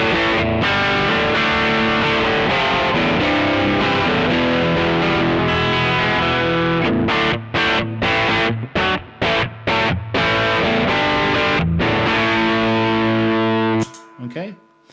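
Electric guitar played through the high-gain heavy channel of a Koch amp, thick and distorted with sustained chords followed by choppy staccato stops, loud and up close.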